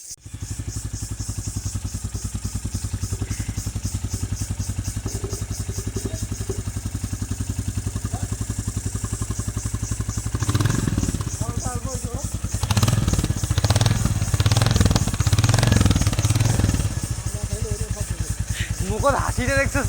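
A Royal Enfield Bullet motorcycle engine runs steadily and close by, a low throbbing idle that grows louder and rougher partway through, with people talking over it.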